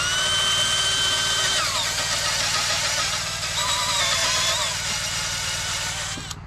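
A power drill bores into wood down to a depth marked with tape, its motor whine loud and steady throughout with pitch shifts as the bit cuts deeper.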